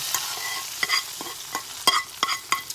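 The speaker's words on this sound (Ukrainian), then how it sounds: "Ми засмажили цибульку з морквою і додаємо до нашої юші." Fried onion and carrot being stirred into a chicken soup broth, giving a few soft scraping clinks and light sizzling pops in short bursts, close and fairly quiet with no talking.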